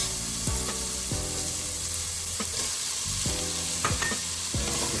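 Chopped tomato goes into a hot frying pan with onions for a chicken dish, giving a constant close sizzle broken by several scraping stirs of a spoon across the pan.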